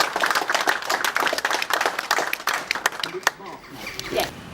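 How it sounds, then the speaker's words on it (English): Outdoor audience applause at the Queen Victoria Memorial Fountain event, a lively spread of many hands clapping at close to middle distance, thinning and tapering off toward the end with some voices mixed in. "Give them a round of applause."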